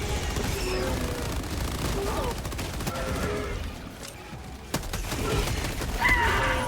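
Orbital strike explosions and rapid gunfire crash through a Helldivers 2 battle, a dense, loud barrage of booms and bursts running continuously with sharper blasts near the end.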